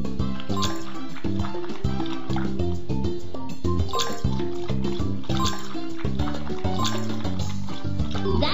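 Water filling a dog bowl in a Dora the Explorer puppy adoption game, a continuous liquid pour and drip heard over loud, steady background music.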